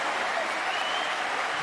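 Crowd applause at a wheelchair tennis match, a steady broadband clatter of clapping that holds evenly and fairly loud throughout the short stretch, with no distinct voices standing out.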